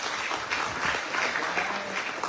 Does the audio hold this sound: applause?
yes